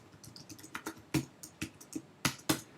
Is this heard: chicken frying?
no